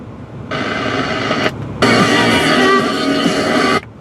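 The car radio in a 2000 Ford Taurus plays inside the cabin, bursts of broadcast sound cutting in, pausing briefly, then resuming before stopping.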